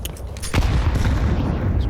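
Counter-Strike gunfire from an ESL Pro League playoff match, FaZe versus Monte: dense, rapid rifle bursts rattle continuously, with a heavier blast partway through and no voices over it.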